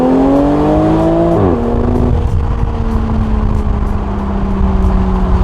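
A Toyota Supra on a stock exhaust with a downpipe tune revs hard and close, its engine tone climbing, then dropping and settling into a steady, loud drone.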